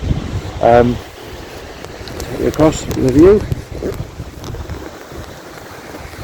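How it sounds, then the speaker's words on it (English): Strong wind buffets the microphone in a constant rumbling roar outdoors on the coast of the Scottish Highlands and Islands as someone speaks over it. "it seems a little windy"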